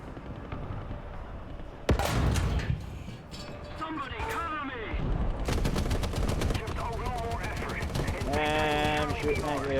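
Video game gunfire, a sharp loud shot followed by bursts of rapid repeated firing, mixed with talking voices throughout.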